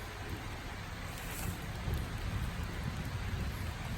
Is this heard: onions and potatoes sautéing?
no